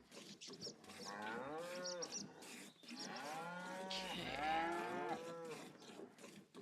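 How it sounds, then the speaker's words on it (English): Cows mooing in a barn in the farming video game Hof Bergmann, several long, loud overlapping moos in close succession with no talking. "I have never heard cows make this much noise in any barn I've ever been in."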